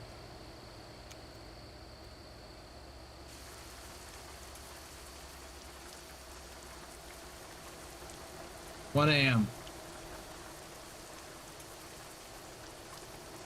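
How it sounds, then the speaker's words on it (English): Soft, steady rain falls in the trucking game Euro Truck Simulator 2 as a faint hiss under a quiet background, with a brief spoken voice cutting in near the end. "So we've got rain."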